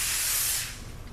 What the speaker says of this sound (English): just hit it with some pan cooking spray